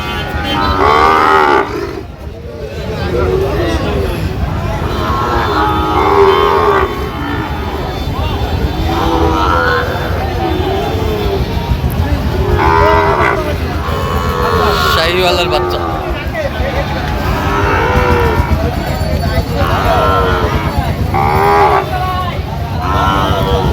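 Sahiwal cattle moo repeatedly amid a busy, noisy livestock market crowd in Noakhali, with people talking loudly throughout and engine noise in the background.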